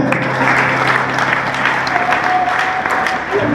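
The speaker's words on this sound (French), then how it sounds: "Applaudissez pour vous-même." An audience applauds at a digital training seminar, a loud dense wash of clapping that continues without a break, with crowd voices mixed in.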